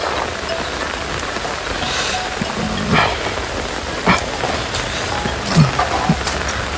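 Steady rain falls in a village, a dense, even hiss of drops on surfaces with a few louder nearby splashes and drips, close and continuous with no talking.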